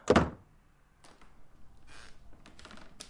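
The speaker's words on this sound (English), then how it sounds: "closed the door with a bang" A door in a home slammed shut with a loud bang, a sharp single hit at the start that rings briefly and fades, followed by faint rustling and small knocks.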